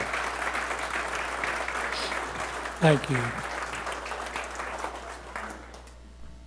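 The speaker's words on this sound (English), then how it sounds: "One more round of applause" Applause from a crowd fills the room while someone speaks briefly over it, then the clapping thins out.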